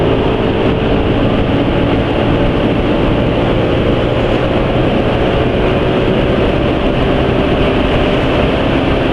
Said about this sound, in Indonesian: Ada kereta api lewat ya, sepi ya.